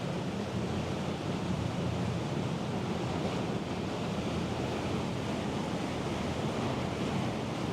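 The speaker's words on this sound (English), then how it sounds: "This ferry's certainly chopping the water up behind us there" Steady rush of churning water in a ferry's wake on Sydney Harbour, with constant wind buffeting the microphone throughout and no voices.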